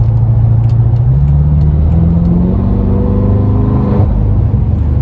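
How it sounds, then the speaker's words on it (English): A 2014 BMW M5's V8 accelerates steadily, its exhaust note rising in pitch as it revs, loud and close throughout. "Oh, the exhaust sounds so good."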